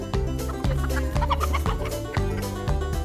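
Chickens cluck close and loud at a 4-H youth farm visit, a steady run of rhythmic clucks about every half second with no talk.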